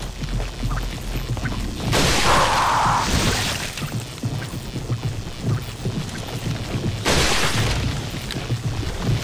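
Flash grenade detonating in the video game Resident Evil 4: a loud broad blast with a hissing burst, then a rumbling steady game background, followed by a second loud burst near the end.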